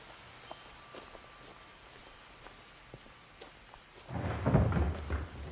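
A thunder-like rumble from the garage in the video game What Remains of Edith Finch, a deep, muffled rumbling that swells near the end after quiet ambience with scattered soft taps and knocks.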